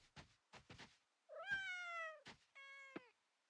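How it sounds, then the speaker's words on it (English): Cat meowing in the video game Coral Island: a few short, chirpy mews followed by two long, drawn-out meows, clear and close against silence. "Chill cat."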